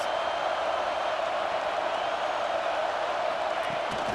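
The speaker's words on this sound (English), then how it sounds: "this crowd getting behind its defense" Stadium crowd in a college football video game cheering for the defense, a steady, dense roar held at even loudness throughout.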